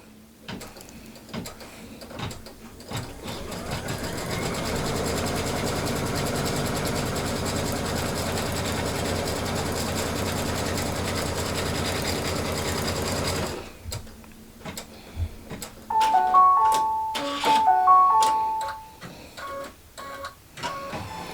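A sewing machine runs a straight stitching line across pressed fabric for a fabric basket. It starts after a few soft clicks and whirs loudly and evenly for about ten seconds, then stops, followed by scattered handling clicks and taps.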